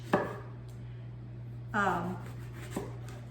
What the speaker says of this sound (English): So I'm gonna slice this as a lesson for the eggplant.